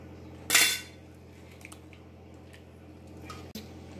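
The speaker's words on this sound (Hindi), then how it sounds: "ऐसे इसका रस निकालते हैं पल्प, फिर रख देते हैं इसको, फिर दूसरा निकालते हैं।" Pulp squeezed by hand from boiled raw mangoes for sweet-and-sour tahua: one short wet squelch with a utensil clink, then quiet soft handling and a faint tap near the end.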